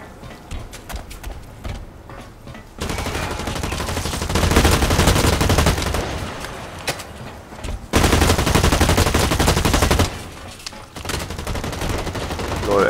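Gunfire in the online shooter Blacklight Retribution comes as sustained automatic bursts and scattered single shots that swell and fade in loud waves, with quieter gaps between the volleys and no talking.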